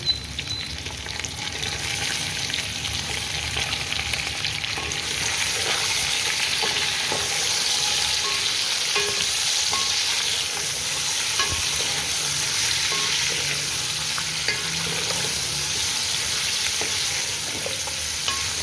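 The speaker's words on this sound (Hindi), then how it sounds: "अब मैं इसमें चिकन को ब्राउन करूँगी।" Chicken browns in oil in a pan for a chicken pulao, a loud continuous sizzle and crackle with small spatters, no voices over it.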